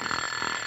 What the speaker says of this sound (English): You heard my alarm watch.